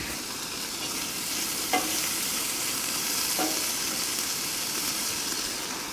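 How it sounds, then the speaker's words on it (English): An egg breakfast fries in a single pan on a camp stove outdoors in a forest, a steady close sizzle with two brief utensil scrapes as it gets stirred, and no one speaking. "Give it a little bit of stir. Get everything nice and cooking."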